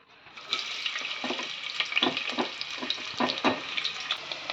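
Sliced onions frying in a pan for tomato bath, a steady close sizzle with soft stirring scrapes recurring throughout, no talking.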